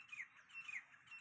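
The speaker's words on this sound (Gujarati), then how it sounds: "અને પંખીનો અવાજ આવે" Faint, distant squawking calls from a bird, a few short harsh notes repeated over a quiet outdoor background with no talking.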